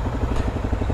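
Honda NX250 motorcycle running at a steady low rumble, a close, continuous engine drone with rhythmic pulsing throughout, alone with no voices.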